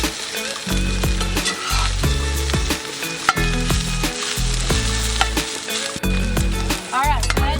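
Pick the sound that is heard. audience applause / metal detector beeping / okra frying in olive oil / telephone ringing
okra frying in olive oil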